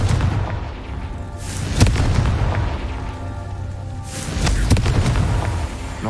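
Fire spell blasts in a wintry Hogwarts Legacy game scene, with repeated deep booming explosions rolling out over a rumbling background, loud and close.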